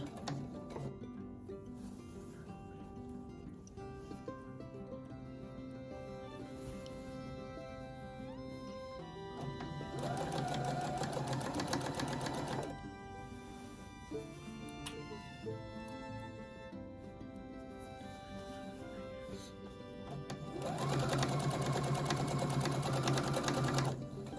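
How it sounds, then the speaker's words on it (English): A sewing machine stitches and back stitches a kimono quilt top, a close, steady mechanical whir that runs throughout and surges louder in two faster bursts. "And then I'm going to back stitch."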